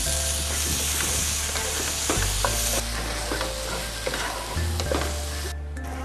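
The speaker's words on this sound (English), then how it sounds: "Now you can add the chopped tomatoes." Chopped tomatoes sizzle loudly with fried onions and ginger garlic paste in a pan, a steady close frying hiss with stirring scrapes running through, no voices.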